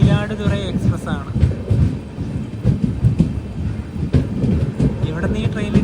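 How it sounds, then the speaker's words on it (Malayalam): The Chengottai–Mayiladuthurai Express idles and shifts at a station, with low rumbling rail noise and occasional thuds beneath a person talking close by. "ഇത് ചെങ്കോട്ടൈ മയിലാടുതുറൈ എക്സ്പ്രസ് ആണ്."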